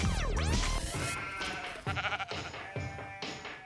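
Goats kept by a small-scale breeder in El Infiernillo, near Amaicha del Valle in Tucumán, bleat loudly and close by, with several overlapping wavering calls in quick succession.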